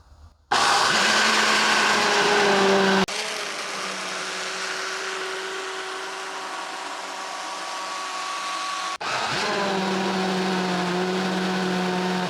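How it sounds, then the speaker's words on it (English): A blender whirs loudly and steadily through a fruit cocktail with peaches, its motor pitch dropping as the load changes, then revving up again, close by with no talking. "let's blend our fruit cocktail"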